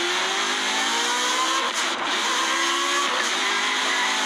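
Forza Horizon 5 car engine whine, a steady high-pitched mechanical tone over a continuous roaring engine note with rising and falling pitch sweeps, loud and constant throughout.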